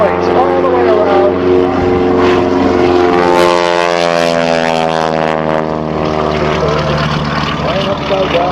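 An aerobatic propeller airplane performs at the Saskatoon air show, with a loud, sustained engine drone whose pitch slides steadily downward as it passes and manoeuvres, and an announcer talking over it.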